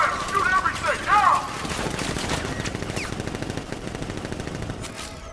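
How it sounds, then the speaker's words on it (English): Sustained rapid gunfire in the video game Batman: Arkham Knight, heard as a steady rattling barrage that lasts several seconds, with voices briefly over the start. "Gun! Open fire! Shoot everything!"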